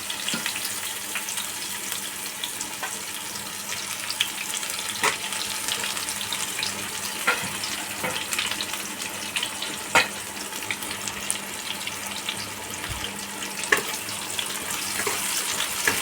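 Chopped onions sizzle in hot oil for a crab curry, a steady crackling hiss with scattered sharper pops throughout, close and moderately quiet with no talk.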